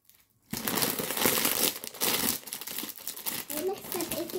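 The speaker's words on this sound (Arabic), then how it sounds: "هنفتح كيس تاني طعم الجبنة" A cheese-flavoured snack bag being torn open and handled, giving loud, continuous crinkling and crackling of plastic packaging close up, with brief child-like voice sounds near the end.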